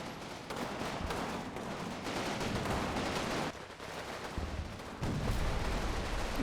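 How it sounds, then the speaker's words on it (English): Dense infantry gunfire rattles continuously in the Combat Mission war game, overlapping rifle and machine-gun bursts forming a loud, sustained battle roar with no pause, from a Utah Beach assault on Carentan. "they begin to open fire on the position"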